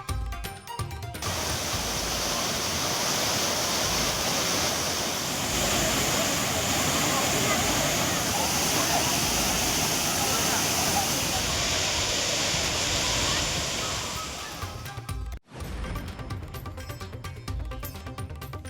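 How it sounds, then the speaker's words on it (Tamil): Water pours steadily at Thirparappu waterfall, where tourists and families bathe, a loud, dense roar of falling water that continues for most of the stretch before cutting to quieter ambience. "திருப்பரப்பு அருவியில் குவிந்த சுற்றுலா பயணிகள். சீரான இடைவெளியில் கொட்டும் தண்ணீரில் குடும்பத்தினருடன் குளித்து உற்சாகம்."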